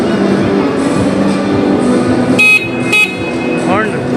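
Two short blasts from an Alpha brand motorcycle horn ring out in the middle of steady background talk and street noise, each one loud and close.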